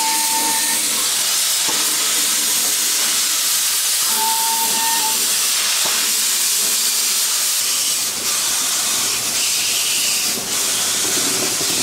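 A Hungarian class 424 steam locomotive pulling a nostalgia train hisses loudly and steadily, with short whistle toots and clanking bursts breaking through the steam.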